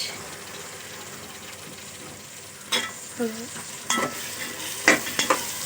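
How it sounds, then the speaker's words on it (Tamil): Peas, carrot, beans and potato frying for vegetable biryani, a soft sizzle underneath a few quick scraping stirs of a spoon through the pan, each stroke a short distinct burst close by. "இதை ஒரு கிண்டு இப்படி ஒரு கிண்டு இப்படி ஒரு கிண்டு கிண்டிட்டு"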